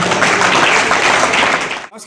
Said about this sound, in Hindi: सरपंच कादमा 11 का तालियों से स्वागत करें